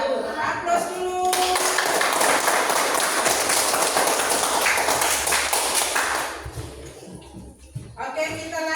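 Applause from a group audience following a class presentation at an Islamic education teacher-training session, steady loud clapping for several seconds that fades, with voices around it.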